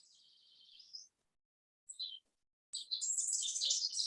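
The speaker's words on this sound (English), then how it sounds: "I think I hear birds." Birds chirp outdoors in short, high, thin bursts, with brief gaps of silence between them, and a denser flurry of twittering near the end. Fairly close and clear, with no talking over them.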